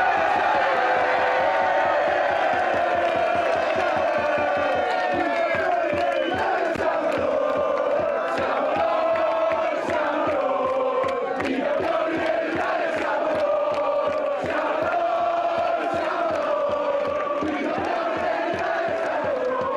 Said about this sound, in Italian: i tifosi della Reyer si sono radunati qui di fronte al Palasport Taliercio